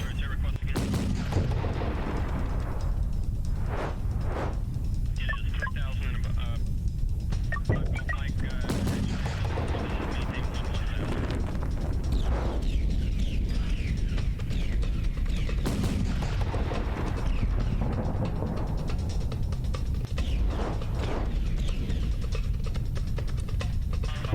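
Ship cannons fire repeatedly during a battle in the Pirate Patrol video game, a continuous loud barrage of booming shots and blasts with someone talking over it at times.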